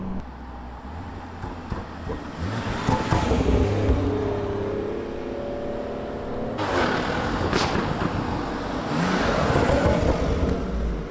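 BMW 340i engine revving up and holding high, with sharp crackling exhaust burbles and pops between revs, loud and close.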